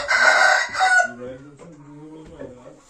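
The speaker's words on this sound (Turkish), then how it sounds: "Bayağı horozu var İbrahim'in" A rooster crows loudly and close on a village farm in Van, a single harsh call lasting about a second, followed by lower clucking and murmuring fowl sounds.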